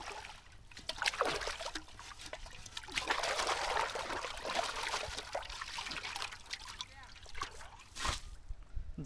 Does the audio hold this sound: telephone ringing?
no